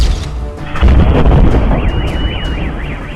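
A powerful bomb blast tears through a darkened city at night, a deep heavy boom that swells into a long rumbling roar, with a rising and falling alarm wailing through the aftermath.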